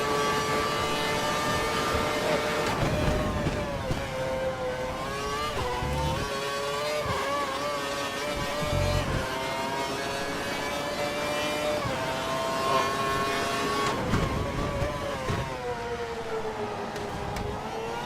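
Formula 1 car engine in the F1 2012 racing game at Melbourne, screaming at high revs down a long straight with DRS open, pitch climbing steadily through gear changes, loud and continuous with no talk.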